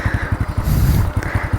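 A motorcycle engine runs close by during a riding lesson, a steady throbbing chug of rapid low pulses that swells briefly in the middle before settling back to its even beat.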